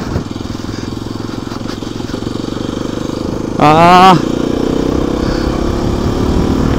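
A Hero XPulse 210 motorcycle engine runs steadily off-road, close and loud, then revs sharply in a brief rising burst before settling back to a steady drone.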